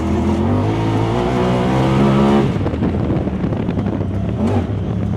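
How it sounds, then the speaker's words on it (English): A tuned Eagle Talon's engine revs hard and high, a steady droning pitch giving way to a rougher roar at a gear shift. It is loud, close and continuous. "RPMs are so high when it shifts."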